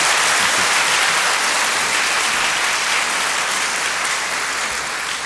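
A congregation at a pastors' ordination service claps in thanks, producing dense, sustained applause that fills the hall at an even level for several seconds, with a faint voice underneath.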